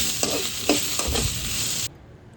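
Onion, garlic and curry leaves fry with a constant sizzle while a spoon scrapes and stirs them in a pan in several quick strokes, before the sound cuts off abruptly near the end.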